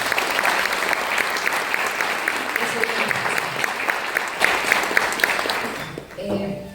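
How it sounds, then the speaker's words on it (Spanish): An audience breaks into steady applause at a Spanish-language talk on forest fire prevention, a dense clatter of clapping that holds for several seconds before fading out at the end. "Un fuerte aplauso, por favor."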